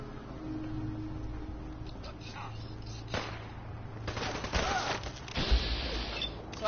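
Modded 10mm pistol fired in Fallout 4: scattered sharp gunshot cracks and thuds over a low game hum, growing busier toward the end, with someone talking underneath.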